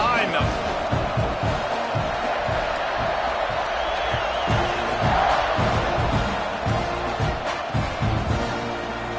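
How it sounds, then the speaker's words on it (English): A college football stadium crowd roars and cheers at kickoff, a dense, loud, continuous wall of noise with rhythmic thumps and shouts throughout, no clear commentary over it. "this crowd now ready to get behind them"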